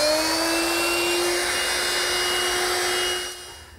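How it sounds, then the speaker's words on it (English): A router fitted with a 1/4 inch roundover bit eases the corners of redwood arbor parts, giving a loud, steady high-pitched whine at close range that tapers off at the end, with no voices. "The 1/4 inch roundover bit is used here to ease these corners."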